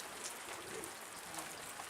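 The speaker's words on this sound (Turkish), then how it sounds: "Bayağı hızlandı arkadaşlar yağmur" Steady, dense rain pours down continuously, a broad hiss with scattered drops pattering close by.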